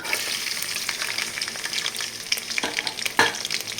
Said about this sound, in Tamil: எண்ணெய் ஊற்றிக்கலாம் கட் பண்ண பூண்டு சேர்த்துக்கலாம்